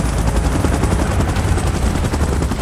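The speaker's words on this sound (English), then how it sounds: "Chopper in position." A helicopter in the PUBG Mobile video game thunders close and loud, its rotor chop a dense continuous roar that fills the whole stretch without a break.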